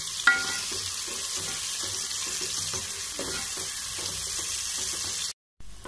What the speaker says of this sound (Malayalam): ഇവിടെ ചുവന്ന കളറാക്കിയിട്ട് ബ്രൗൺ കളറാവുന്നത് വരെ ഉള്ളി വഴറ്റിയെടുക്കാം